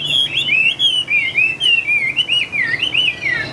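A songbird with an ivory-coloured beak and spotted neck sings a loud, close, continuous stream of rapid high warbles and chirps, phrases running together without pause, with no voices over it.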